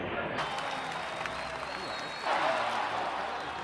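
A crowd applauds through a TV during a sports game at home, a faint, steady wash of clapping and cheering that swells briefly, with someone talking over it.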